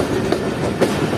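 Jaffer Express passenger train running on railway track, heard from on board as a loud steady rumble with rhythmic clickety-clack wheel beats at regular intervals.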